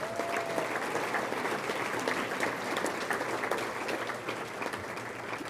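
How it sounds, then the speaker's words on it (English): An awards-ceremony audience claps for the studio crew, giving a steady, dense round of applause that holds at an even level throughout. "Let's give them a round of applause."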